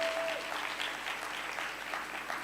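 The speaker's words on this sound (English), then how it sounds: "give all those people a warm, hearty round of applause" Warm, sustained applause from the audience at a Moth storytelling event, a dense even wash of clapping throughout.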